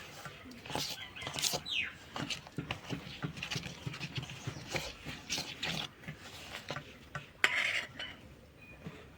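Beaten eggs whisked for a homemade cake, a steady rapid clatter of utensil against bowl running throughout, close and moderately loud, with a brief sharper clink near the end.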